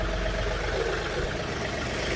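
A tractor engine runs at a steady low idle with a constant rumbling drone and faint vibration, heard alone at moderate level throughout a lawn and garden event.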